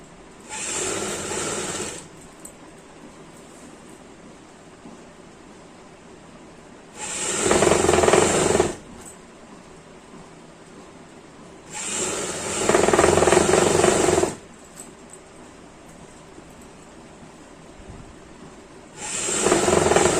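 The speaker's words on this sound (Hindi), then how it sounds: "तो हम इस टक को टक के साथ मिलाते हुए सिलाई करते जाएंगे" A sewing machine stitching the tuck of an umbrella frock runs in three loud, steady whirring bursts of a couple of seconds each, separated by quiet pauses.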